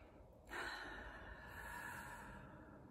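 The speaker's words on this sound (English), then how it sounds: "let's just take a nice deep breath" A single deep breath, drawn in audibly and held as a soft, close, airy rush that fades slightly toward the end, with no talk over it.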